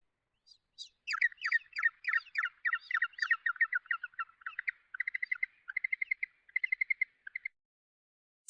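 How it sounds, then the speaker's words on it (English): Penguin calls: a run of rapid, harsh harmonic notes in a rhythmic, braying series that thins into evenly spaced short pulses, fairly close and clear with no talk. "Penguin."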